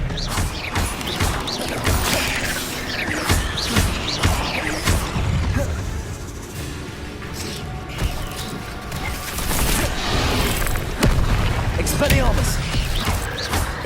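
Spell-casting blasts from the video game Hogwarts Legacy: dense bursts of crashing, whooshing magic and mechanical clanks pile up almost continuously, loud and close throughout.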